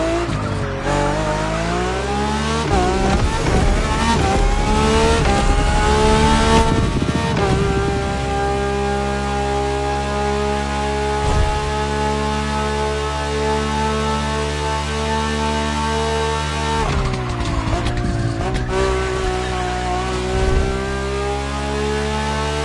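Lamborghini sports car driving through a hairpin turn, engine revving up and down with clear harmonic tones, a surge of acceleration and tire squeal early on, steady cruising in between, then another burst of revving near the end.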